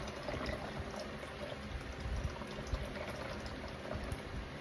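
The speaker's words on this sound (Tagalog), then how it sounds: "I-rinse ko na lang siya ng hot water." Hot water poured to rinse coffee equipment, a steady close splashing, hissing stream that continues evenly throughout with no voices.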